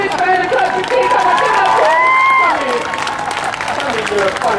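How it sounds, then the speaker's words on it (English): Crowd applause and clapping at an outdoor buskers festival street show in Saint John, New Brunswick, a steady wash of hands across the whole stretch with a performer's voice talking loudly over it. "Can we give this man a clap for Keith?"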